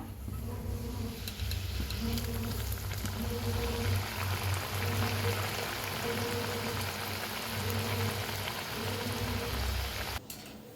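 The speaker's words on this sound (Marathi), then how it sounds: "बघा मस्त असं तळाय लागलेले आहेत शंकरपाळ्या" Layered maida shankarpali dough pieces frying in oil on a medium flame produce a continuous dense bubbling sizzle with a low rumbling hum underneath, steady throughout and close by.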